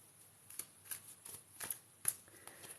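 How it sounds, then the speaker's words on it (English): A deck of cards being shuffled at close range during a tarot-style reading, several quick riffling bursts with soft pauses between, fairly quiet. "So let's shuffle these cards for our Jenny."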